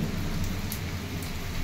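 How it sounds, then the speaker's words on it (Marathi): Heavy rain pours steadily in a village, a continuous dense hiss with low rumble underneath, moderately loud and unbroken by speech. "आता हा या पावसा बघा पलीकडे तुम्हाला दिसते कसा मोठा पाऊस चालू आहे"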